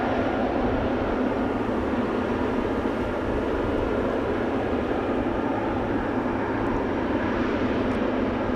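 A Boeing 747 passes low over the runway at Amsterdam Schiphol Airport, its engines a loud, steady broadband roar that holds the whole time with no voices.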